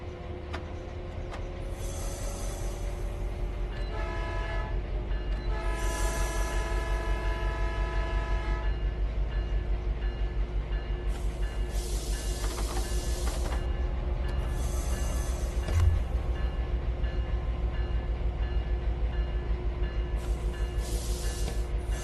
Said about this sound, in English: To get the train moving, move the handle into the power range.